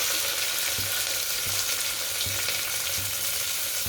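Onions frying in a pan for vegetable khichdi give a dense, even sizzle close up, with a soft stirring knock about every three quarters of a second and no talking.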